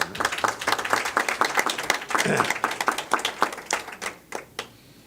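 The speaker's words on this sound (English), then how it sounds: "Let's give them a round of applause." Applause at a college board of trustees meeting, a room of people clapping in a dense uneven patter that swells and then thins out to a few last claps.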